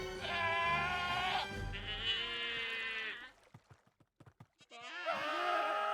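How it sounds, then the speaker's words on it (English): Screaming goats from Minecraft, heard in a music shop area of a Disneyland-style build, letting out loud, harmonic wailing cries in two long bursts, then a stretch of short clicks, then another loud cry at the end. "I love the screaming goats so much."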